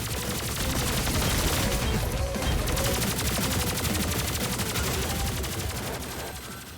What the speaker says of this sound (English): Handguns, assault rifles, plasma rifles and shotguns all feel great to use and sound very authentic to the